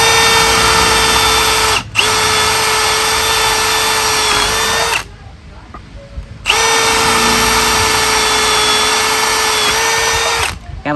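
A Milwaukee 2804-20 cordless drill runs at a steady high whine in loud, close bursts, stopping briefly twice and falling silent for a longer gap midway.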